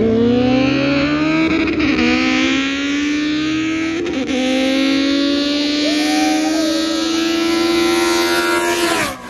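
A nitrous-fed Honda EG racing a car with a built B-series engine on nitrous, loud engines revving hard with rising pitch through gear changes, sustained and close throughout.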